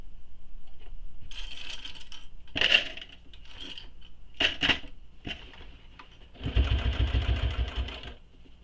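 A home sewing machine stitches a backpack in bursts of rapid mechanical whirring, with a clattering thump partway through and a louder, sustained run of stitching near the end, all close and fairly quiet.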